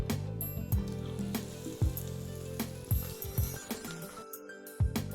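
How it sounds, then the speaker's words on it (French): Oil crackles and sizzles close by as breaded chicken fries, with sharp pops and spatters breaking through the steady hiss. "Et c'est parti pour la friture."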